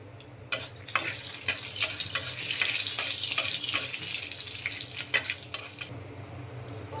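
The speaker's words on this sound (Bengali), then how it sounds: "তেল গরম হয়ে গেছে, দিয়ে দিচ্ছি শুকনো লঙ্কা।" Dried red chillies crackle in hot oil in a wok for a tempering, a steady close hiss with sharp pops and spits scattered throughout, no voices.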